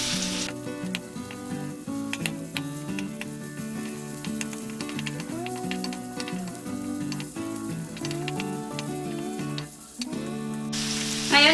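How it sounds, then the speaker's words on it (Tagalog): Red onion sizzles and crackles steadily in a hot pan while being stirred, a dense close frying hiss with occasional scraping strokes, heard over soft background music and no talk. "Sunod po natin ilagay itong ating sibuyas na pula. haluin lang po natin ang ating sibuyas."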